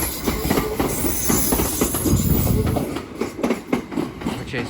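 A heavy, delayed Transport for Wales service from Cardiff Central to Manchester Piccadilly, hauled by a Class 67 set, rolls through Crewe station on the West Coast Main Line with loud, close rumbling and steady clickety-clack that eases slightly toward the end.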